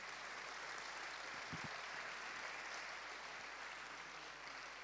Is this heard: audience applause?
yes